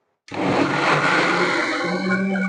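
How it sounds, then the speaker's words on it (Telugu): A kitchen mixer blending mango lassi starts abruptly after a brief silence and runs loud and steady, a whirring motor churning liquid close by. "ఇప్పుడు మనము మిక్సీ వేసుకుందాం"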